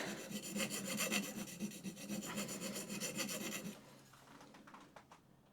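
A hand plane blade being sanded through abrasive grits, with rapid rhythmic back-and-forth rubbing strokes that are steady and close, then fade to a few softer scrapes near the end.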